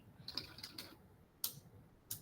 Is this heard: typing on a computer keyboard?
yes